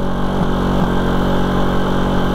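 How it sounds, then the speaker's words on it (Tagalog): Motorcycle engine running steadily at close range, a loud, even rumble with a couple of faint knocks and no speech. "Medyo maingay pa yung motor, sandali."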